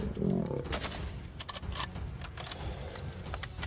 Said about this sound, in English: A gunshot rings out and immediately the lion collapses to the ground.